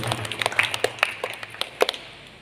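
A church congregation clapping hands in thanks, a scattered, uneven patter of claps at close range that tapers off after about two seconds.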